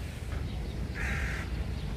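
A crow at the Baku zoo lets out a single harsh caw in the middle of a quiet stretch of low background noise.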